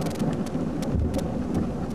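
Severe thunderstorm with heavy, steady rain pouring down and thunder rumbling low beneath it, loud and continuous throughout, with no voices.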